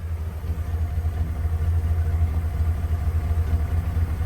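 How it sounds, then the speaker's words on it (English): The 5.0 V8 exhaust of an original OBS Ford F-150 idles nearby with a deep, pulsing low rumble that throbs steadily and evenly. "listen to this exhaust"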